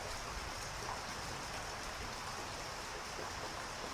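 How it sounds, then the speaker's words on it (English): Soft, steady rain falls as an even, continuous hiss with no distinct drops or voices, faint and unchanging throughout. "An entirely odd little tale with soothing rain sounds to help you relax."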